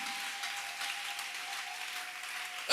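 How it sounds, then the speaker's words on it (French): A church congregation at an evangelical celebration claps together in continuous applause that stays even throughout, then cuts off abruptly at the end. "Pouvez-vous acclamer pour la gloire de Jésus?"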